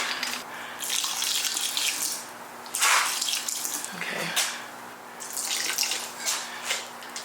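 Vinegar is poured into a bucket of old, foul-smelling ceramic clay in a studio, making a close, uneven splashing and gurgling pour in several surges with no talking.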